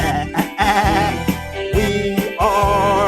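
Goat bleating sound effect: several loud, wavering bleats come one after another, close and clear, with no talk over them.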